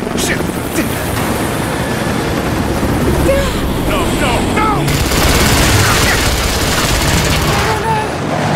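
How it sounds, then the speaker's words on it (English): Gunfire in the video game Rise of the Tomb Raider, loud rapid shots and rattling over a continuous rumble of an engine or rotor, with voices talking over the shooting. "Shit, they weren't supposed to shoot at us."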